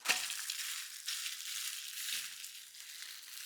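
Sabudana thalipeeth hits a hot oiled griddle with a soft sizzle and crackle, a quick initial burst settling into a faint, steady fry.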